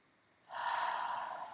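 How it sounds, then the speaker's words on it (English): A single deep breath is drawn during a gentle yoga class, rising suddenly from quiet into a steady, airy rush that holds close and clear with no talk. "Big breath in. Shoulders down as you breathe out. Take another breath in."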